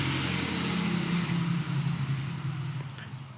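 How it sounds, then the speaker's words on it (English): Road vehicles pass by in a steady, loud wash of traffic noise with a low engine hum, slowly fading toward the end, heard outdoors in a garden with no speech. "Pardon the noise, there's vehicles passing by."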